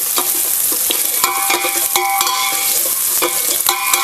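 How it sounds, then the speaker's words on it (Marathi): Garlic frying in a little hot oil in a pan while being stirred, a steady loud sizzle broken by repeated scraping and clinking strokes of the spoon, with no talking. "आता आपण लसूण घालूया आणि चांगलं पण आपण परतून घेऊया"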